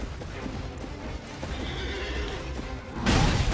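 A horse ridden by an enemy in Elden Ring whinnies and neighs at moderate distance over game ambience, ending with a louder crashing hit.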